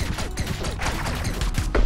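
Shots fired at creatures in the pixel-art adventure game Owlboy, a busy cluster of quick blasts and impacts layered over game music for under two seconds.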